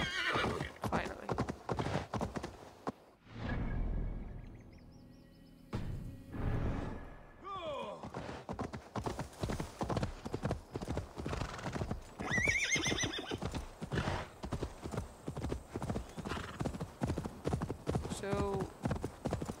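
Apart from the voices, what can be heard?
horse hooves and neighing in Assassin's Creed Valhalla video game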